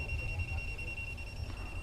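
A non-contact voltage tester beeps near a wire during a multimeter and clamp meter demonstration, giving a steady high-pitched electronic tone held for the whole moment over a low background hum.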